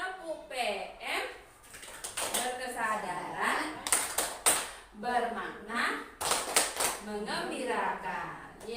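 A group performs a rhythmic clapping chant during a teacher training session, sharp claps in short bursts mixed with steady chanted speech from a nearby speaker.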